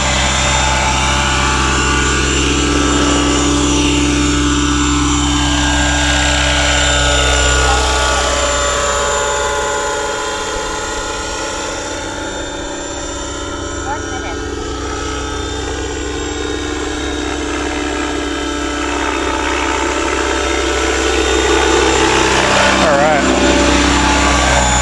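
Roban 600 Airwolf scale RC helicopter flying on its maiden flight, its steady loud rotor and engine whine continuous and close throughout, with slight swells in pitch and level.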